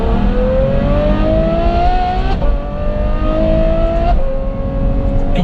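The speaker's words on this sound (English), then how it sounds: "the overriding dominant factor, is this exhaust system" Ferrari F12 with a 100-cell box exhaust system revs hard and loud up close, its engine note rising in two long sweeps with a brief break in between.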